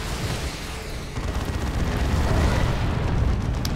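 Base-destroying explosion in the Dawn of War 2: Chaos Rising strategy game, a sustained, loud rumbling boom that swells after the first second and keeps roaring with crackling debris.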